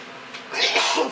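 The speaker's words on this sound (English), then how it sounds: "Cayenne pepper gets me busy sneezing." A single close, loud sneeze triggered by cayenne pepper while cooking, bursting out sharply after a quiet breathy lead-in.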